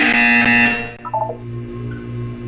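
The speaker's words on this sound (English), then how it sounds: "When you hear the buzzer, look up at the ceiling." A loud, harsh electronic buzzer sounds in the Portal 2 video game, holding for about a second before cutting off, followed by a few short beeping tones over a low hum.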